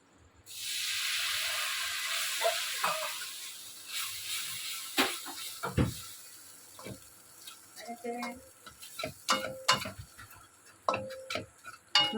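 Water splashed into a hot pan of paneer roll filling gives a sudden loud hissing sizzle that fades over a few seconds, followed by scattered clinks and stirring taps.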